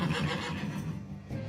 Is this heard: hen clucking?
no